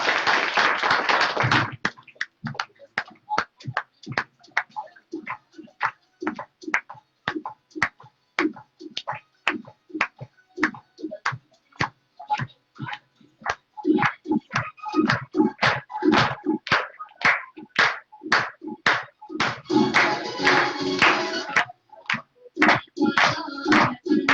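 An audience at a team success celebration in Prayagraj claps in sustained applause, settling into rhythmic, evenly timed claps that swell louder near the end, with no talking over it.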